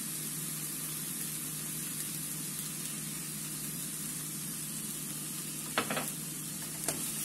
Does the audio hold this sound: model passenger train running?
no